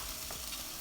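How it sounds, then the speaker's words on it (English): Potatoes sautéing in about a tablespoon of hot oil in a Ninja Foodi Grill, a soft continuous sizzle that is steady and close. "Just let them saute a little bit"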